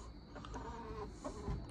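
Chickens clucking close by, a few soft irregular clucks and murmurs over a short stretch, moderately quiet with some background rustle.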